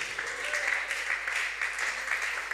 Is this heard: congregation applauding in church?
yes